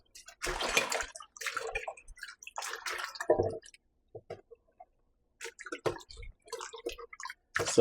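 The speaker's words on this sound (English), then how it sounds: "Now I'm going to wash the pop choy, okra and spinach." Pak choy leaves being washed in water with baking soda, making intermittent splashes, sloshes and drips in short bursts separated by quiet gaps, close and fairly soft.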